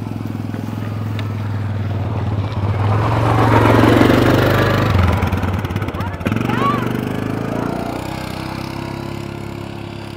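A small moped engine runs steadily, swelling briefly louder before settling back to a lower, even idle, with some voices in the background.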